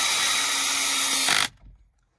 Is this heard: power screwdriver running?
yes